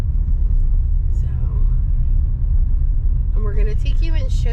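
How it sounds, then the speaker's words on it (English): Cars roll off a mountain road onto a bridge in Webster Springs, West Virginia, over the rushing Elk River, giving a steady low traffic rumble throughout; near the end, voices talk over it. "these cars are just coming right off the mountain onto this bridge right now"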